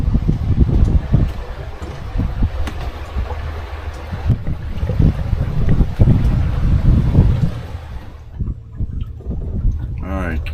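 Strong wind buffets a solar-powered barrel boat camper outdoors on the water, producing loud, close, rumbling gusts across the microphone that swell and ease throughout, then drop away near the end.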